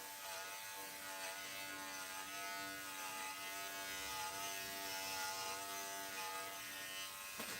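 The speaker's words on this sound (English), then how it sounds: "I'm liking this clipper." An electric dog grooming clipper on a doodle runs steadily throughout with a constant, close buzzing whine and no speech.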